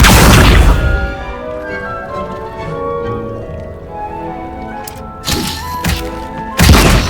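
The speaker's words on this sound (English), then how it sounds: "They'll chomp on anything they can get their mouths on." Chinese Chomping Cabbages in a Hogwarts Legacy herbology class gnawing on a training dummy: a heavy thud opens, then a rumbling, tonal stretch of chewing and crunching, followed by a few sharp impacts near the end, loud and close.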